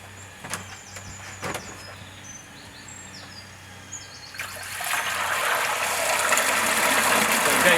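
Water rushes back into the inner chamber of a Nexus pond filter once the base gate valve is opened, rising from a few clunks into a steady, loud gushing flow.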